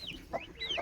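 A mother hen clucks softly beside peacock chicks in a coop, a few brief, faint, chirpy clucks over roughly a second.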